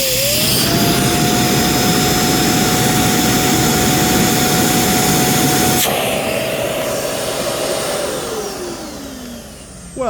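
A Euro Pro EP601 vacuum cleaner runs loud and close on high suction, a steady roaring whine with a held motor tone that drops in pitch as the machine winds down near the end.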